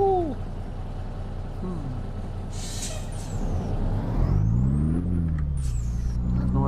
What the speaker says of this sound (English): I don't know what truck this is, but dude, that thing took off.